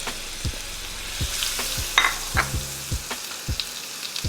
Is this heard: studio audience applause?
no